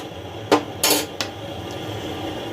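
Pulao being stirred in a pot with sugar and salt, heard as a few sharp metal clanks and a brief scrape of a spoon against the pot over a quiet low hum, nearby, with no talking.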